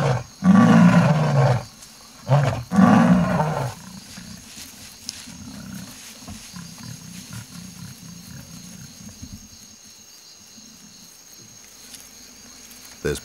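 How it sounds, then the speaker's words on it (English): In the African wild, a male and a female lion roar in sync with deep, loud, close bursts in the first few seconds, then low rumbling grunts fade over quiet night insects. "The prelude is this roaring, the male and female synchronizing their roars."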